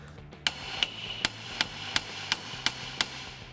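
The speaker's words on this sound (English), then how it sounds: "bigger hammer" A hammer strikes the rear axle pinion of a 1967 Chevrolet Camaro with a four-speed: about eight sharp, loud, metallic blows at a steady rhythm, each ringing briefly.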